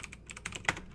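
Keystrokes on a computer keyboard while code is being typed, a quick irregular run of soft clicks with one sharper tap near the end, close and quiet with no talk.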